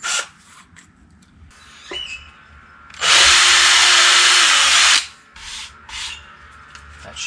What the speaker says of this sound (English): I gotta drill this hole out a little bit bigger for that pin to sit in